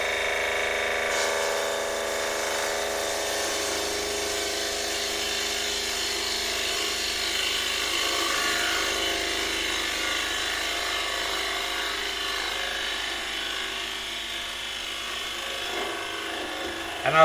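A bowl gouge is pushed hard into spinning wood on a lathe, giving a continuous close scraping rasp over the motor's hum that fades slightly toward the end.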